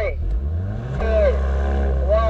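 An Audi SQ2 and a Mercedes-AMG GLA 35 launch in a drag race, engines droning and revving up under a person talking over them, rising and loud throughout.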